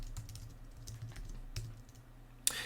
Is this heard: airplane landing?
no